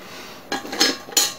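An aluminium coffee-pot lid, salvaged from the trash, handled on a bushcraft camping mug: three quick metallic clinks and scrapes, close and distinct, with quiet between.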